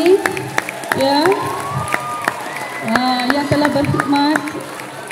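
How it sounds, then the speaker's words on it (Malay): An audience at a school farewell ceremony for a retiring teacher claps in scattered bursts, heard under someone speaking loudly over a microphone. "Berikan tepukan gemuruh kepada Cikgu Nur Aini ya"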